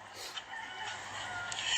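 A rooster crows in a farmyard, a drawn-out bright call rising over steady background noise, fairly distant and without any talk.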